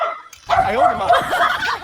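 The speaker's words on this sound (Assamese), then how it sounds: "এইটো কুকুৰ হয়" A dog gives a short, high yipping bark with whiny tones, close up, lasting about a second after a brief quiet start.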